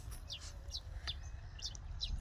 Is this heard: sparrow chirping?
yes